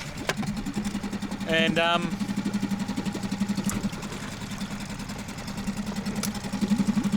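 A 6 horsepower outboard motor runs at a steady, pulsing idle beneath someone talking close by, its low chugging rhythm continuing throughout.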